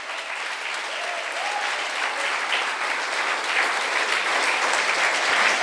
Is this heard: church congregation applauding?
yes